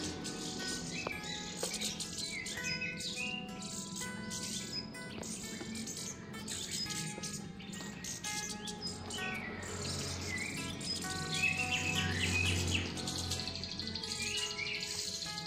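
Young Punglor birds chirp steadily during hand-feeding at a bird farm, a dense, continuous chorus of high tweets and calls close by with no talking.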